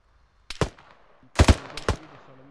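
Gunfire in the video game Arma 3 comes as two short bursts of a few sharp, close shots each, separated by a brief quiet gap with a faint rumble trailing off.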